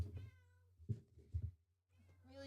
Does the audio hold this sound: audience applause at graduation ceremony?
no